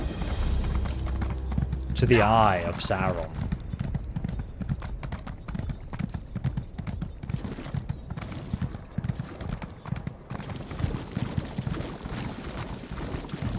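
Horse hooves galloping in The Elder Scrolls Online, a fast steady clip-clop rhythm running throughout under continuous talking, with a brief game sound effect near the start.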